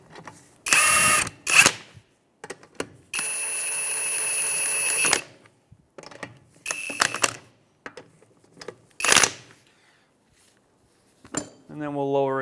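A power tool whirs in several short bursts, snugging lug nuts in a crisscross pattern on a Honda Element wheel, with one longer run among the brief pulses and quiet gaps between them.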